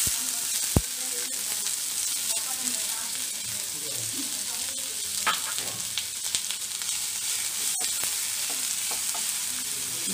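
Small-cut large onions fry in a ladleful of hot oil for a cabbage Manchurian sauce, giving a steady close hiss of sizzling with occasional sharp spits and a clack of a utensil, without talk.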